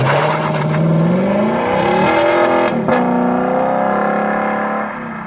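A Lexus LC500 GT sports car with 477 horsepower drives past at speed, its engine revs rising and falling in a loud, close, continuous roar before easing off at the end.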